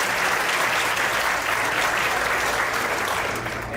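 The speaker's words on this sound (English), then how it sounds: "Let's give them a round of applause." An audience applauds at a committee gathering, a dense, steady wash of clapping from many hands that holds at full strength throughout and fades only slightly at the end.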